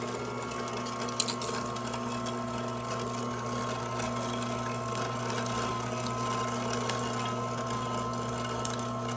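An Amzchef ZM1517 slow masticating juicer with its meat grinder attachment grinds cubed pork, a steady close motor drone with a constant whine and a few clicks, running alone without talk.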